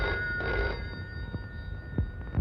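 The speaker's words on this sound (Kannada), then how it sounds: "ನಡಿ, ರಮೇಶ್ ಫೋನ್ ಮಾಡೋಣ." A telephone rings on an outgoing call, with a steady electronic ring tone and faint thumps beneath it, heard in an indoor scene from a Kannada film.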